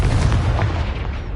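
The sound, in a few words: Confringo fire blast spell in video game Hogwarts Legacy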